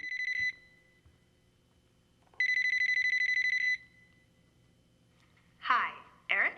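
A telephone rings in two bursts, a short ring and then a longer one, clear and close in a quiet room, before a voice begins speaking.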